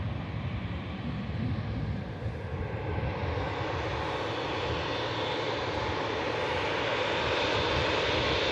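A Loganair airliner departing, its engines giving a steady, loud broadband roar that holds at a constant level throughout with no one speaking.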